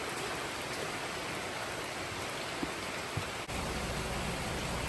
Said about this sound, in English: We have a major rainstorm and flash flooding